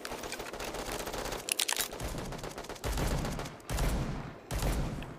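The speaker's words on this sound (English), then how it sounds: "That sounds like a fucking shotgun." Heavy gunfire in the mobile shooter Bullet Echo, dense overlapping blasts in bursts with brief pauses, loud and close, consistent with shotgun fire among other weapons.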